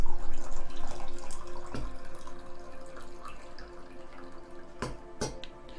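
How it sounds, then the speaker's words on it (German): Tea poured into a cup during a livestream, a steady close trickle of liquid with a few sharper clinks of the cup, heard alone without talk. "ich gieße mir gerade noch mal ein bisschen Tee nach"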